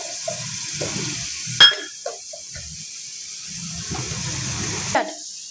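Chopped onions and green chillies sauté in a pan, with a soft sizzle under intermittent scraping and stirring clatter, including a sharp utensil knock and a second clank toward the end.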